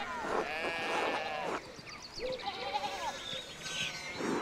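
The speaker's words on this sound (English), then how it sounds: "we need to get these sheep under control" Sheep bleat repeatedly in the video game Pentiment, several wavering calls overlapping one another at close range with a steady ambient bed beneath.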